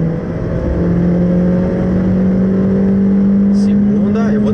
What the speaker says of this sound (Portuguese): E segunda, vamos acelerar fundo.